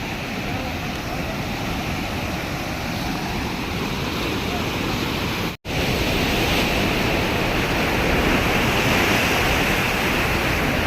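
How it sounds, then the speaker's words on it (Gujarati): Water pouring from a hillside waterfall makes a constant, loud, broadband roar with no break in rhythm, steady for about eleven seconds. "જો કેવી રીતે પાણી પડી રહ્યું છે"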